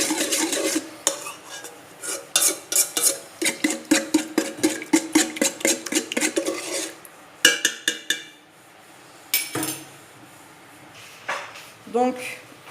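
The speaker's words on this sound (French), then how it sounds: "Donc je vais mélanger." A utensil stirs pizza dough ingredients and sugar in a bowl, giving quick rhythmic scraping and clinking strokes up close, broken by a few pauses and scattered knocks against the bowl.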